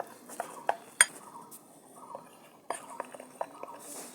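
Spoon scraping and clinking against a bowl while gram flour batter with red food colouring is mixed, in short irregular bursts with a soft voice in the background.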